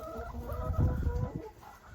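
An egg-laying hen clucks softly and repeatedly at a farm in Germany, with low murmuring chicken sounds close by and no talking.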